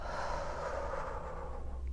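A long, soft exhale during a guided breathing exercise in a prenatal yoga class, a gentle steady rush of breath fading slowly, close and quiet with no talk.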